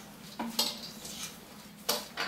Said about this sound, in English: Lightly toss this together.